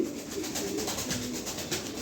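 A racing pigeon coos softly in a few low, rolling phrases at close range, with no voices present.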